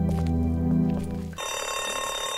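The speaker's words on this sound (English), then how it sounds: "They heard the phone ringing" A telephone rings in The Walking Dead video game, a loud electronic ring that cuts in partway through over a low game-music drone and keeps sounding steadily to the end.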